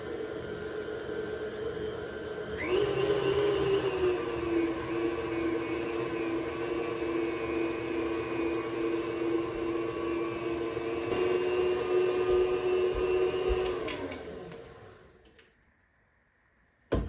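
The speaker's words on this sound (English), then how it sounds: "KitchenAid blender here. And just blend it up." KitchenAid blender whirring through wet banana bread ingredients, a steady high motor whine that surges as blending starts, holds for about eleven seconds, then winds down to silence, close and alone.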